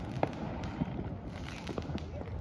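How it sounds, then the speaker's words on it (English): Fireworks burst outdoors beside 4th Street in Chesterton, Indiana, a few faint distant pops and crackles scattered over a noisy background hiss. "You watching the fireworks?"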